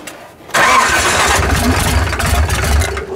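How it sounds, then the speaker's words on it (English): Engine nearly out of fuel, cranked and catching abruptly about half a second in, then running at a rough, loud idle close by with no talking. "but I'm gonna try to start it anyway."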